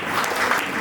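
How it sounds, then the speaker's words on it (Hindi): Audience at a workers' honouring ceremony applauds to welcome a speaker, with a steady wash of clapping from many hands that fills the whole brief moment at moderate loudness. "इसलिए आप लोग से मैं तालियों से स्वागत करें"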